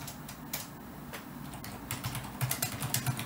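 Computer keyboard typed on at a desk during Arduino LCD programming work, a steady run of light, close key clicks that pick up to a quicker, louder patter near the end, with no talk.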